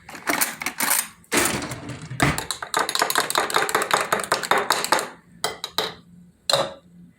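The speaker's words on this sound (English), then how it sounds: "Okay, and then I stir it up." A spoon stirs coffee into a kale shake in a cup with rapid clinking and scraping taps against the side, in bursts with short pauses between them.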